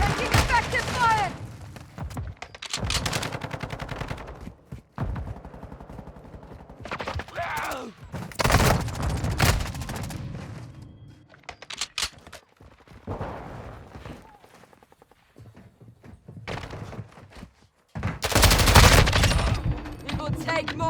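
Automatic weapon fire in a Call of Duty Modern Warfare II Warzone match, with repeated loud bursts and volleys spread across the clip, a few heavy blasts near the end, and game voice lines in between.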